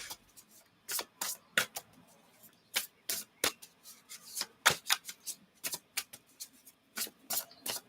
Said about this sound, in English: So I could be shuffling for a long time.